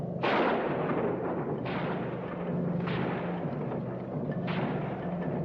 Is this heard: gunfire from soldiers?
yes